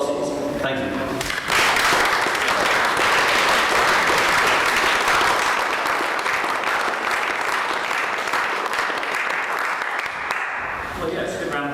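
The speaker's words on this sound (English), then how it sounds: "a good round of applause" Audience at a general election hustings held in a free church breaks into a loud, sustained round of applause lasting about ten seconds, with brief talk just before it starts and again as it fades.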